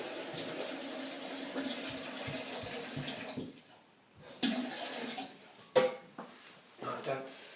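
Cold water pours steadily into a homebrew mash for a few seconds, a continuous splashing rush, followed by quieter knocks and brief sloshes.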